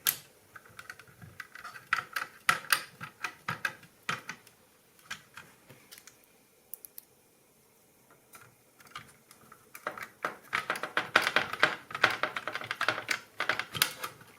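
Screws go back into the case of a SEGA Dreamcast console during a fan installation, heard as close, irregular clicks and ticks in scattered bursts with quieter pauses between, and no voices.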